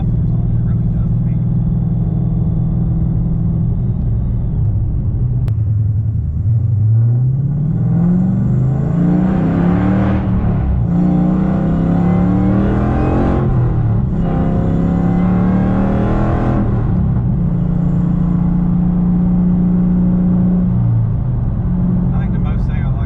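A Magnuson supercharged six-speed Dodge Challenger R/T with straight-piped exhaust revs loudly up and down through several throttle blips over a heavy rumbling idle, close and dominant throughout.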